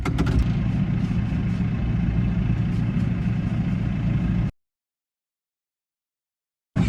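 A farm vehicle idles nearby after pulling up for a top-off during baling and drilling work, a steady low rumble that runs for about four and a half seconds, cuts to silence, then briefly resumes at the very end.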